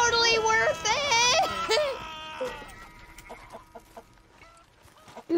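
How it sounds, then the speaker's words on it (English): Chicken clucking in Red Dead Redemption, a loud rising squawking burst over the first two seconds, then sparse softer game noises and thuds with a sudden hit at the end. "I killed the chicken!"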